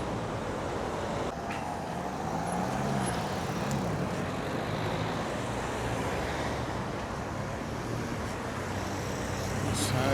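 Steady street traffic in Palma de Mallorca at a crossing while waiting for the lights, a continuous roar of passing cars with a louder swell near the end.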